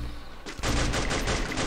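Gunfire in the Free Fire battle royale video game, a sudden burst of rapid shots erupting after a quiet moment and continuing loud and dense to the end.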